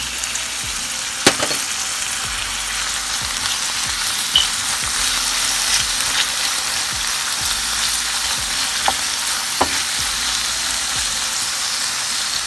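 Tomatoes go into a pan of onions sweating on low heat, giving a continuous close frying hiss with a few sharp utensil clicks and stirring knocks, no voices over it.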